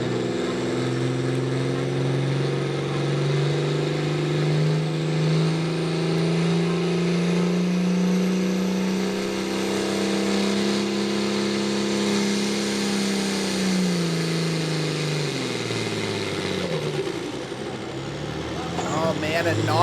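A John Deere outlaw farm pulling tractor roars down the track at a county fairgrounds, its engine holding a loud, steady high-revving drone that climbs slightly, then drops off sharply near the end as it shuts down.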